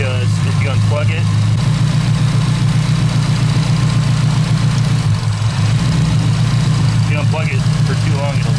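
A turbocharged Nissan Silvia S14 Zenki idles steadily with its idle air control valve unplugged, a continuous low engine rumble running throughout, with brief speech-like bursts near the start and end.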